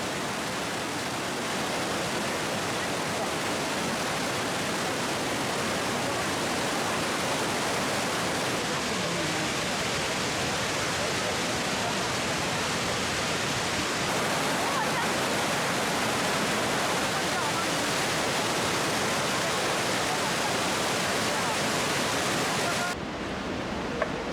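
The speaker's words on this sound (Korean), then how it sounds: "폭포의 높이가 40m에 폭이 200m나 되는 구체구에서 가장 규모가 크고 아름다운 폭포다" Pearl Shoal waterfall at Jiuzhaigou, China, is a large fall 40 m high and 200 m wide. It gives off a loud, unbroken roar of crashing water that holds steady throughout.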